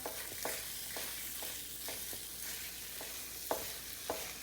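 Roasted flour being stirred in a pan for gur and alsi pinni, a spoon scraping in quiet, regular strokes over a faint low sizzle, with no voice.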